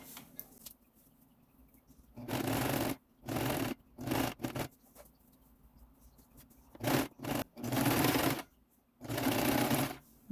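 An electric sewing machine runs straight stitches along a fabric strip for a children's kurti, in several short whirring bursts separated by quiet pauses, close and fairly soft.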